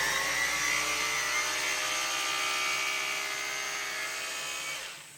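A hammer drill powered from a portable power bank runs steadily at a high-pitched electric whine with rattling harmonics, close and continuous for about five seconds before spinning down at the end.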